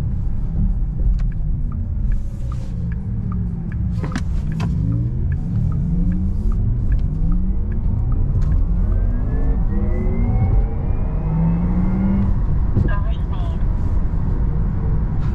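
A Porsche Taycan Turbo S driving in Sport Plus mode, with a synthetic electric drive tone that sweeps up and down in pitch over a low rumble, heard from inside with occasional clicks and someone talking.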